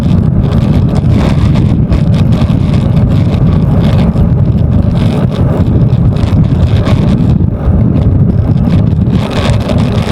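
Strong headwind buffets the microphone during a bike ride on a steep climb, a loud continuous low roar of wind noise that surges and gusts steadily throughout with no talking.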